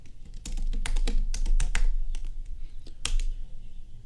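Rapid keystrokes on a computer keyboard while code for a React e-commerce slider's add-to-cart submit button is entered, a close, irregular run of clicks in quick bursts with short pauses, alone without talk.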